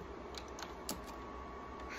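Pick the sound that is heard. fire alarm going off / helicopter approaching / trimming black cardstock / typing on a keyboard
typing on a keyboard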